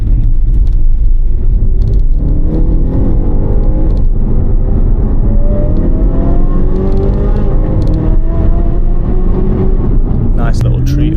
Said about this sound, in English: trying to catch up to this V12 Lamborghini. What a lovely engine that is